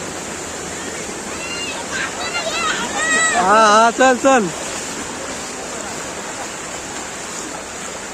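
Floodwater rushing through a village after heavy rain, pouring across a flooded school parking area; a steady broad roar runs throughout, with excited voices calling out midway.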